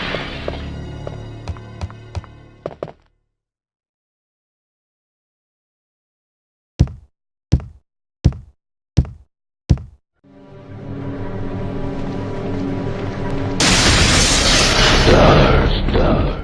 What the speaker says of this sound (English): Nemesis comes breaking in, shattering said window into pieces, creating a jump scare.